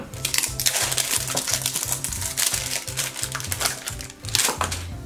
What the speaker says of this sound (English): let's get this plastic off of here